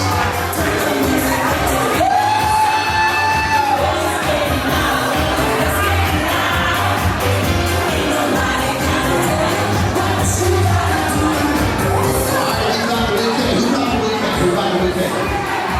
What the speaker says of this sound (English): a round of applause for the bouquet catcher